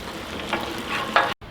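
Minced garlic and onion fry in a pan with a steady close sizzle, with brief louder bursts as they are stirred, ending in a sudden cut to silence.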